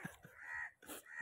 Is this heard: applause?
no